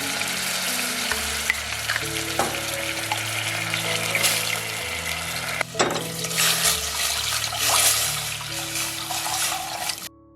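Grapeseed oil sizzles and crackles steadily in a pan over medium-low heat close up, with a few clinks of utensils and a tonal background hum running throughout.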